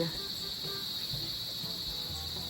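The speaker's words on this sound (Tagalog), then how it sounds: "rinig na rinig ang mga kuliglig" Crickets chirp continuously in a steady high-pitched chorus at night in the Philippines, fairly distant, with faint low rustling and thumps underneath and no talking.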